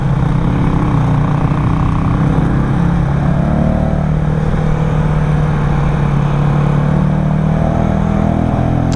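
A Yamaha Y15ZR motorcycle fitted with an R1 cam revs hard and strains at high RPM, its engine loud and close with a steady, heavy drone and no talking.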